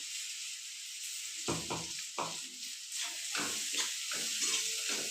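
Green chilies frying in a hot pan, a steady sizzle with irregular stirring scrapes and bursts of crackle, fairly quiet and close.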